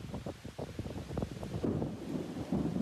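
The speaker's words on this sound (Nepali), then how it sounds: "यस्तो डेन्जर हावाहुरी आयो कि यहाँ चाहिँ।" A dangerous windstorm batters a village, heavy gusts rumbling low and thudding against the microphone in uneven bursts, loud and close, with no one speaking.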